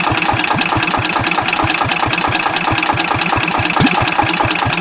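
A Wisconsin AENLD engine driving a Pacific pump on a Land Rover cranks and chugs with a steady, rapid knocking rhythm, loud and close, running continuously throughout without any voices.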